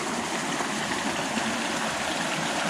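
A mountain stream on the Colorado Trail flows steadily in an even, moderate rush of water, constant and unbroken, with no voices over it.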